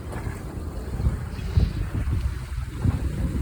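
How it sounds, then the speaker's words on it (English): Wind from a tropical storm rumbles and gusts against the microphone in a low, continuous roar, with faint water sounds beneath, aboard a moored boat. "I don't know if you can hear the wind howling."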